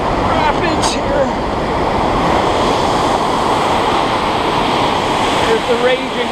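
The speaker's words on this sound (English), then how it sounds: "Here's the raging waters of the current river." High, rain-swollen water of the Current River rushing through rapids, a loud continuous roar of churning water with wind buffeting the microphone and someone briefly speaking over it.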